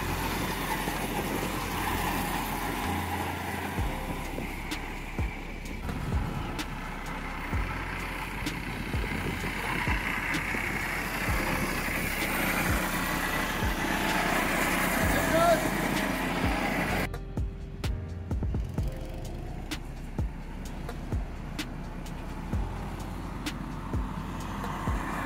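A small go-kart engine runs steadily while a child drives a first kart ride, a continuous motor drone at moderate distance with people talking over it throughout.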